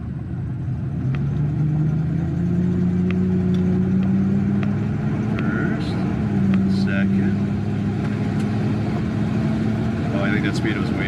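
A 1954 Chevy's engine hums from inside the car as it drives through the gears, a steady mid-pitched drone rising and dropping with each shift, while people talk over it.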